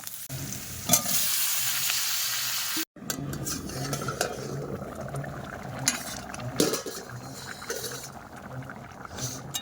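Onion, garlic, green chili and five-spice frying in oil in a kadai, a loud close sizzle with the scrape and clatter of stirring, briefly cut off, then continuing with stirring over a softer sizzle.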